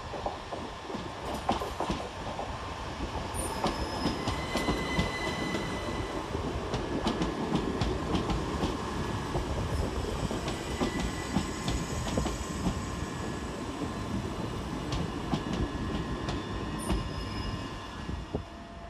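A Southern Railway electric multiple unit train rolls into Eastbourne station, a steady rumble of wheels with sharp metallic squeals and clicks over the rails, no voices.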